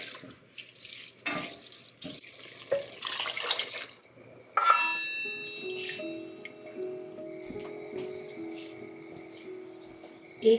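Hot water is poured into a pot of rice with soya chunks, salt and coriander powder, a gurgling, splashing stream that starts and stops, then settles into a steady trickle with clinks of the pot, with no talk.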